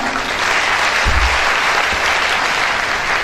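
An audience applauds a speaker at a motivational talk, a loud, full burst of clapping from many people that stays steady and dense from start to finish, with a low thump partway through.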